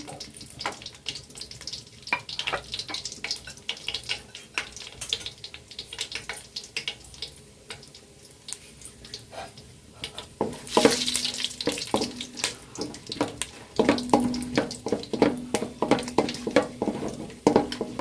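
Whole garam masala and dried chillies frying in hot oil, a steady crackling sizzle with irregular sharp pops and spatters, louder bursts near the end, with no talking.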